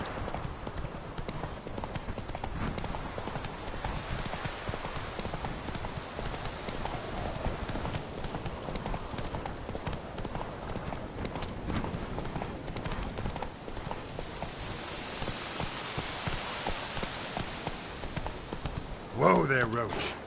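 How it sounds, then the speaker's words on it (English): Horse hooves clip-clop continuously in The Witcher 3 video game, a close, brisk and even trotting rhythm over outdoor ambience for about twenty seconds, with a voice talking over it and a sharp burst near the end. "Whoa there, Roach."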